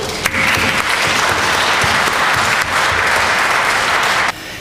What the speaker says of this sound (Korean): 다시 한번 우리 성탄 축하하는 박수 하시겠습니다.